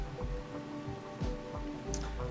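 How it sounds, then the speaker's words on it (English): Rain falls in the video game Rimworld, a soft steady patter of drops with faint irregular taps, alone and quiet. "I wonder if the rain helps the plants to grow."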